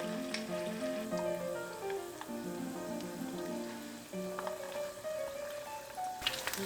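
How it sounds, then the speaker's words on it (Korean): Battered chicken tenderloin seasoned with curry powder fries in preheated oil in a small pot, a steady crackling sizzle with soft background music, continuous and moderately quiet. "튀김 반죽옷을 입힌 후 예열한 기름에 튀겨줍니다."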